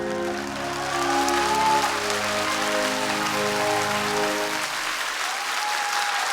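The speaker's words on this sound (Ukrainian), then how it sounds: "Ваші оплески, друзі" A crowd applauds as sustained string quartet music fades out, the clapping continuing on its own afterward.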